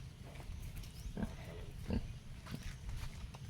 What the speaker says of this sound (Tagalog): Nakawala yung pig ni Mama.